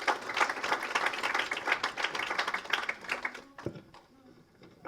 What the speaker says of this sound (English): A round of applause for Sean.